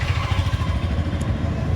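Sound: vehicle noise from outside, motorcycle

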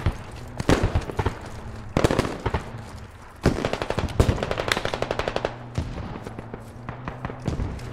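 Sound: gunfire and mortars in the video game Squad

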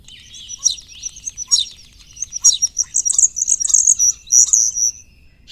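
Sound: common starling singing

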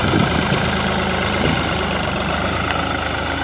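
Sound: tractor engine running

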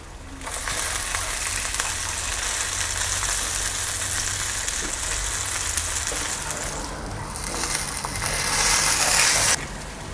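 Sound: salmon frying skin-down in pan

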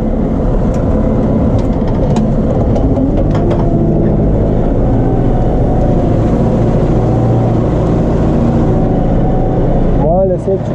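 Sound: Case JX110 tractor engine straining uphill in two-wheel drive

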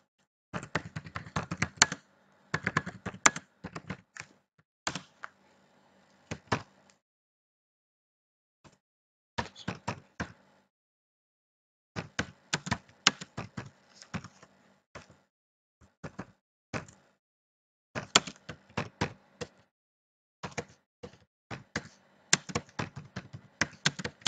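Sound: typing on a computer keyboard in a computer lab

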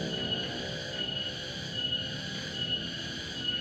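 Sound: cicadas chirping in the evening

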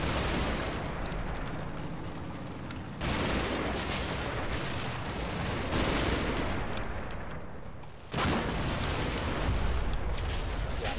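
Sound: machine gun suppressive fire in a video game

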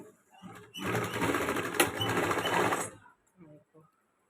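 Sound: sewing machine stitching a sleeve onto a shirt

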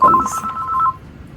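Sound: telephone ringing with an incoming call

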